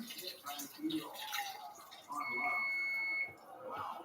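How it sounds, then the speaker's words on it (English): Electronic beep from a tea appliance in a home kitchen, a single steady tone lasting about a second, moderately loud amid clattering kitchen sounds; a person talks nearby. "if you hear that beep, that's for my tea"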